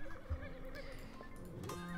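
A horse in Rival Stars Horse Racing gives a wavering whinny over soft clip-clopping hooves and light background game ambience, fairly close and clear, with no voices.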